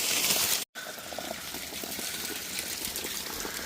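Water runs out of an irrigation hose reel being winterized, a steady broadband gushing hiss that briefly cuts out early on, then continues evenly.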